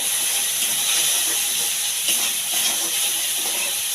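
Water poured into a hot pan with ground cumin gives a loud, steady, continuous hiss that holds at the same level throughout, close by and with no voices.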